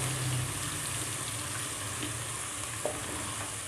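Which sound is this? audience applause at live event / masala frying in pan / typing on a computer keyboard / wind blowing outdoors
masala frying in pan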